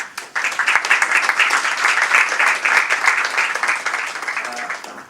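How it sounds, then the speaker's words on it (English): Audience applause after a group presentation session, a dense, steady wash of many hands clapping that sustains for several seconds before tapering slightly, with faint voices underneath. "you should clap for yourself"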